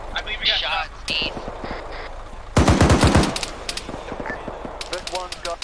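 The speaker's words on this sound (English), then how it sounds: "I believe we got shots east." Machine gun fire in the ArmA 3 video game: a dense burst of rapid shots midway, with scattered single reports before and after and radio-style voices talking throughout.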